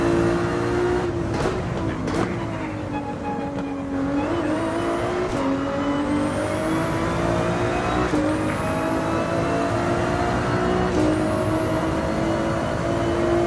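A race car laps a circuit in Gran Turismo 7, its engine droning loud and steady with rising and falling pitch as it shifts through gears, plus brief tire squeal, with no voices.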